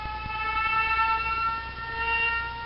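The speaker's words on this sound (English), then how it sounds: "So I'm gonna choose Siren, turn it on" A synthetic siren sample triggered in Virtual DJ Pro plays steadily, its layered wailing tones sustained and fairly loud throughout with no voices over it.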